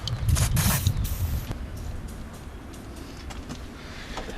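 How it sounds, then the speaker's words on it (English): An aerosol can of WD-40 hisses into a small hole in a Nissan Figaro door, with a loud, close spray for about a second followed by quieter rustling and handling noise. "And I'm also going to spray a little bit in this hole right here."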